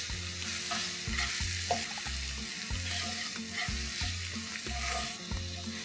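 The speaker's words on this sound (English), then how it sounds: "Saute this together really well." Red chili powder and cumin powder sautéing in a pan for an egg masala dish, with a soft steady sizzle and spatula stirring while a rhythmic repeating background music pattern plays throughout.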